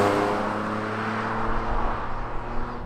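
A Mitsubishi 3000GT with roughly 200 horsepower, worn and wreck-looking with windows that don't close, accelerates on the road, its engine a steady hum and growl heard from inside the car with wind noise.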